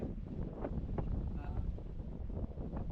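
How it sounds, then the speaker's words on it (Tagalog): Strong wind at sea buffets the microphone with a low, rumbling roar that rises and falls at a soft, steady level. No one speaks. "Kasi malakas ang hangin."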